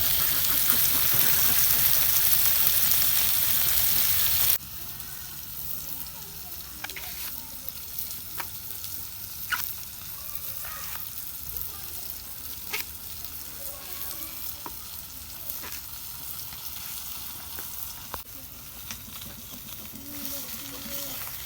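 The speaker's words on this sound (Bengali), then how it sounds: "মাছ ভাজা হইতে থাক" Bata fish fry in hot oil, opening with a loud, bright crackling sizzle that drops to a quieter, steady hiss dotted with sharp pops and light clinks.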